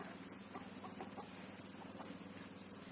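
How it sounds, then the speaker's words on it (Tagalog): A backyard chicken in rural Bataan, Philippines clucks faintly in short repeated notes against a steady outdoor background hum. "may manok akong pumuputak"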